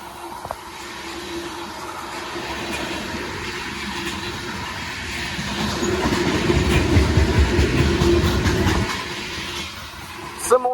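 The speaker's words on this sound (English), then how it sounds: "Symbol in that train is CSX B115." The CSX B115 freight train passes on Lake Avenue in Blasdell, New York, with a steady rumble that swells in the middle and carries faint wheel clatter. Rough background noise runs throughout.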